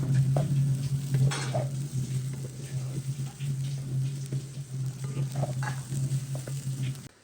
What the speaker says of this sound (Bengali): তো চালটা এখন ভালো করে ভেজে নিচ্ছি।